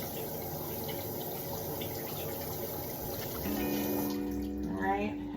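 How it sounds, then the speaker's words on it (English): Hot tap water runs steadily into a sink over a silicone face cleansing brush, a continuous splashing flow, with someone talking over it near the end. "I'll run it under hot water and like rigorously cleaning between the bristles"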